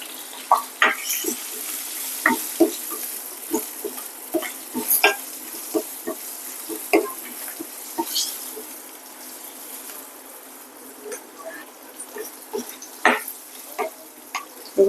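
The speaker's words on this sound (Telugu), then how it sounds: "ఇక దోరగా మగ్గుతాయి కదా ఉల్లిపాయలు, ఉడికిపోతాయి." Chopped onions with a little turmeric cook in a pan for a palm fruit curry, giving a soft continuous sizzle broken by scattered light clicks and scrapes of stirring, close by and fairly quiet.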